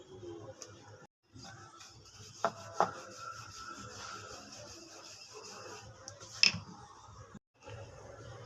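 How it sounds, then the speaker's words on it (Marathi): Puran poli, a sweet stuffed flatbread, is rolled out with a rolling pin, giving a soft, continuous rubbing and scraping close by, with a few small taps. "पुरणपोळी लाटून तयार आहे।"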